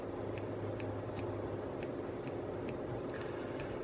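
Small scissors trim fibers while tying a Single Buford muskie fly, making a steady series of light, crisp snips about every half second over a constant background hum.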